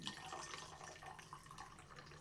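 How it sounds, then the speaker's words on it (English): Mountain Dew poured from a bottle to top up a cocktail of Alpenbitter, a soft steady stream of liquid splashing into a glass, close and quiet, with no talk. "we are just going to top it up with Mountain Dew."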